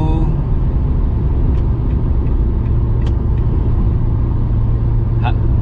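A Wuling Confero car cruises at 100 km/h on an Indonesian toll road, its engine drone and road rumble forming a loud, constant low roar inside the cabin, with a few faint brief clicks on top.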